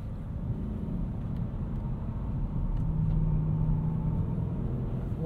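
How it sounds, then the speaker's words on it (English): Steady low road rumble from snow tires on a 2024 Mercedes-Benz GLS580 4MATIC, a continuous cabin drone that swells slightly midway with no talking. "A little bit of noise there from our snow tires."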